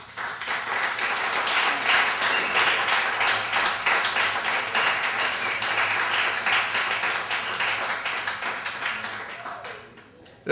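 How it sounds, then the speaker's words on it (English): An audience at a poetry reading in a library applauds steadily and fairly loudly for about ten seconds, the clapping fading slightly before stopping. "let's give Brother Everett another great round of applause there"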